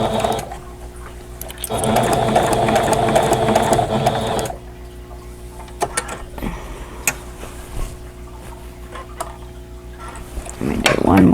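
A sewing machine hums and clatters through a short run of stitches on a quilted pillow cover with an envelope back, then goes quiet to a low mechanical idle with faint ticking, and starts up again at the end.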